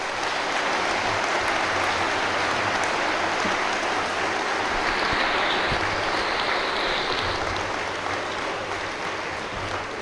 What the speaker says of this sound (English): One more round of applause for these gentlemen.